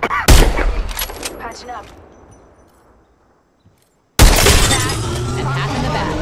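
Gunfire in the video game Apex Legends, with loud bursts of shots and shattering hits that fade out, then a sudden loud barrage returns, with a short spoken line.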